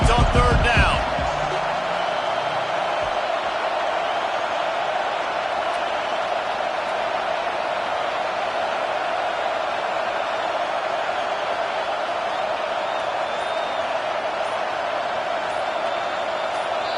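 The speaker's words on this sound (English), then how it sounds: "Decibels rising as the crowd gets behind this defense on third down." A football stadium crowd in an NCAA video game, facing Clemson, roars in a dense, steady wall of noise, loud throughout after a few sharp thuds at the start, with a commentator's voice faintly underneath.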